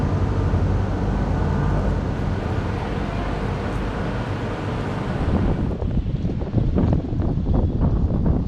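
Strong wind on the French coast near Nice buffets the microphone, producing a loud, steady, broadband roar with gusty buffeting toward the end.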